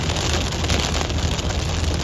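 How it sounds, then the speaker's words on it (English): Heavy rain drums on a moving vehicle while driving east through a South Dakota storm, a dense, constant hiss mixed with road and engine rumble, no talk. "we're getting a lot of rain."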